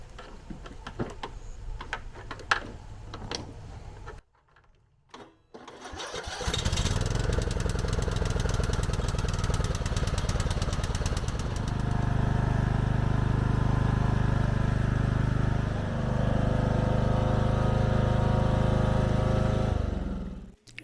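A lawnmower engine, its battery only briefly charged, cranks after a few clicks and a pause, then catches and runs steadily at a loud, close idle before cutting off at the end.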